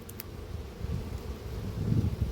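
A steady low insect hum of many honeybees at an opened hive, continuous and fairly close, with no voices.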